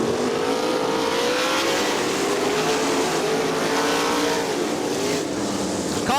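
Several 410 sprint race cars roar around the Crystal Motor Speedway dirt oval in Michigan during an A-main event, their engines loud and steady, with wavering pitch as the cars race past together.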